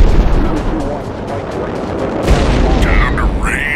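Heavy explosions and rapid gunfire in the jet combat game Modern Jet Fighter, flying an Egyptian MiG-21, roll on loudly and steadily, with a deep blast near the middle and a rising whine near the end.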